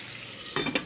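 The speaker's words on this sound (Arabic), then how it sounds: "خلاص كده قلبت الكبده كويس جدا" Liver sizzling and being stirred in a frying pan: a steady soft hiss joined near the end by a few quick scraping stir strokes, close and fairly quiet.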